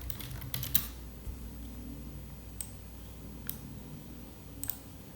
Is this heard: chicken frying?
no